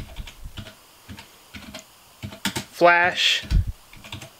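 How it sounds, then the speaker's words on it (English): Close computer keyboard typing, a run of quick clicky keystrokes in short bursts, while someone speaks briefly in the middle. "then we're just going to type our command."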